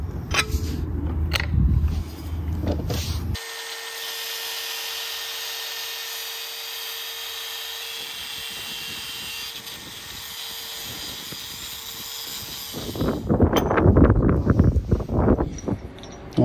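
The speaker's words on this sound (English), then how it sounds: "these impact step drill bits are amazing. They go through this metal like butter." An impact step drill bit bores through metal for a trailer D-ring tie-down anchor install, giving a sustained grinding whine in the middle between bursts of rattling impact hammering at the start and end.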